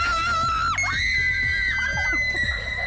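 A TV announcer lets out a loud, sustained shriek inside a haunted house attraction, the high scream sliding down and back up over dense background music and noise.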